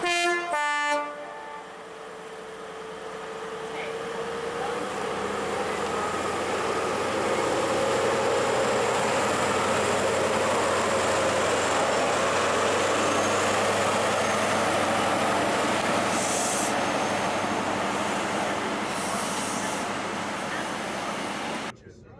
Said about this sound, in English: The engine revs lift and the mighty train is back on the move once more, complete with the now expected acknowledgement of the horn